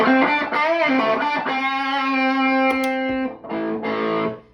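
Electric guitar played through a pedalboard with distortion and a clean boost pedal, loud sustained overdriven notes and a held bent tone that cuts off, followed by a couple of short chords, with no talking.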